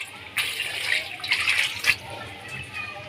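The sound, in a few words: cold water poured over boiled macaroni in strainer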